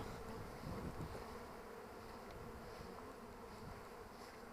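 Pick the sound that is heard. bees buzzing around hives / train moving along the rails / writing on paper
bees buzzing around hives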